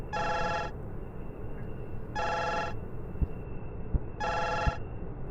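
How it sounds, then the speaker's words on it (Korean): Telephone ringing in the video game The Man From the Window 2, three evenly spaced electronic rings separated by short pauses, moderately loud over a low background hum with a few soft thumps. "전화가 오네"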